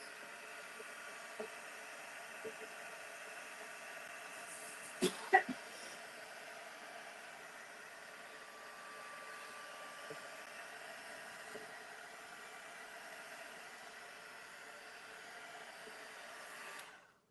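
A hair dryer or heat tool blows a steady, faint whooshing hum over mixed media artwork, running continuously with a few small knocks and no talk.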